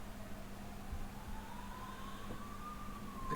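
Ambulance siren passing in the distance, a faint rising and falling wail over steady low street rumble, no talk.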